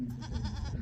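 A young goat bleats continuously up close on a farm, a steady, wavering nasal cry with strong harmonics lasting the whole moment, no talk over it.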